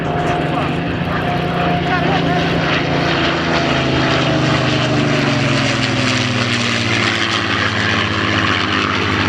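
Propeller tail-dragger aircraft throttling up at the Shoreham air show: a loud, continuous piston-engine drone with descending tones as the planes pass in formation, and an announcer talking over it.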